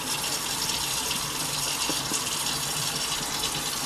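Lukewarm water runs continuously from a tap while Chinese crocodile lizards are washed, a steady hissing gush that is fairly close and unbroken throughout.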